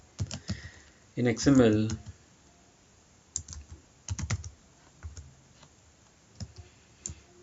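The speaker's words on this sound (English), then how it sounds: "Maybe I'll type it here" Keys on a computer keyboard clatter in short bursts of rapid, close clicks, with someone briefly speaking between the typing runs.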